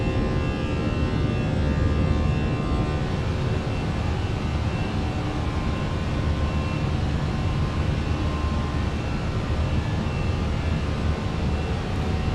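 Fenix A321 airliner engines at climb thrust in Microsoft Flight Simulator, a dense, steady roar that holds constant and loud throughout with no breaks.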